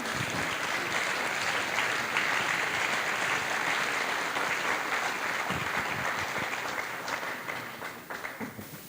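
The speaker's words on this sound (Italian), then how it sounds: "un bel applauso" Steady applause from an audience at a choir's tenth anniversary concert, dense and continuous clapping for nearly nine seconds, gradually thinning toward the end.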